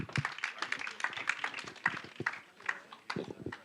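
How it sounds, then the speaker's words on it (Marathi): Scattered audience clapping at a Marathi film launch event, uneven and patchy rather than a full ovation, with loose claps rising and falling and some voices mixed in. "जोरदार टाळ्या एमीसाठी"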